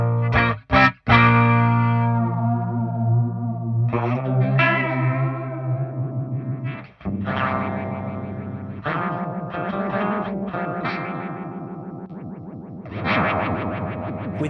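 Electric guitar played through a Fender Hammertone flanger pedal, sweeping and jet-like with a distorted chorusing shimmer, sustained chords ringing out loud and alone across several strums with a brief cut near the start.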